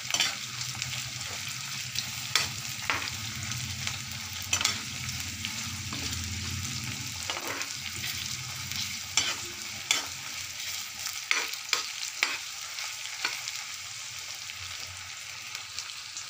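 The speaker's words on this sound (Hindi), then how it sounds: "और प्याज, अब इसे हल्का सुनहरा होने तक भूनेंगे।" Sliced onions stir-fry in a kadhai for a dhaba-style mushroom and tomato sabzi, giving a steady close sizzle with repeated scraping and stirring knocks of a spatula throughout, no voices.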